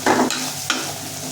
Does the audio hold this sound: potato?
yes